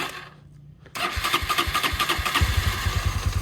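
A Honda GL100 motorcycle engine with a Diablo crankshaft starts up and runs at a close, loud, steady idle with a rhythmic low thump, no voices present.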